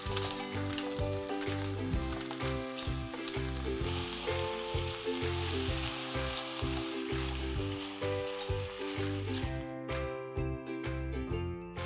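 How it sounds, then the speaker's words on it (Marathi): Clams sautéing with browned onion in a hot pan for a Marathi clam curry, a constant loud sizzle with occasional light clinks and stirring, no voices. "त्याच्यात आपण तिसऱ्या घालून जरा 2 मिनिटं परतून"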